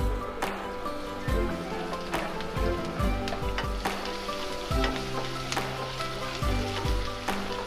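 Cashews, green chilli, grated ginger and curry leaves sautéing in a pan, giving a light, steady sizzle with occasional stirring clicks beneath louder tonal background music.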